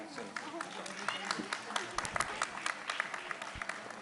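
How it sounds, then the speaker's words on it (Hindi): An audience at a Jain community celebration in Delhi claps to welcome a lucky draw winner and the sponsor, with scattered sharp claps under a busy murmur of voices at moderate loudness. "एक बार जोरदार तालियों से इनका स्वागत।"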